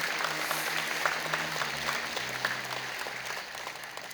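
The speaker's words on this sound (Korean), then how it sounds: "큰 박수로 환영하시길 바랍니다" A church congregation claps in sustained applause to welcome visitors during a Sunday worship service, a steady even wash of many hands filling the sanctuary with no voices on top.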